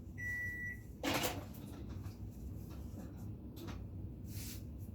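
A microwave oven beeps once, then its door clunks open and a hot bowl of egg scramble is taken out, with quiet handling sounds afterward in a kitchen.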